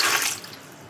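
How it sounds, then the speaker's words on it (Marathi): Water splashes briefly into an idli steamer pot that holds a little lemon, a short close pour that quickly fades. "पाणी टाकत आहे"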